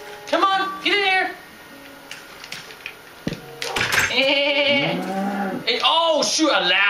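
A mooshroom cow in Minecraft lets out several close game moos and lowing calls that rise and fall in pitch. Someone talks excitedly over the top of them, and game sounds such as a door clatter in the background.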